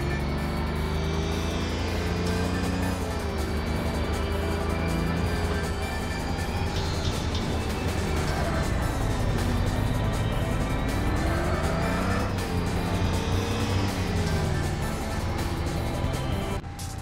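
A race car roars at high speed in Tokyo Xtreme Racer Zero, its turbocharged engine droning loud and continuous, pitch rising and dipping as it shifts and pushes toward top speed.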